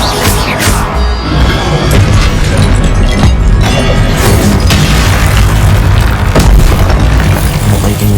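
Incendio fire spell cast during combat in Hogwarts Legacy, a loud continuous roaring burst with repeated booming impacts and crackling crashes filling the whole stretch, no talk.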